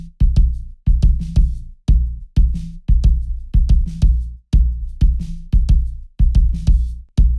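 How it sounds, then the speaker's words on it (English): A kick drum shaped with a boosted low shelving EQ thumps in a steady pattern of deep, punchy hits, each with a short decay and clear gaps between beats, played alone. "Let's listen to the kick."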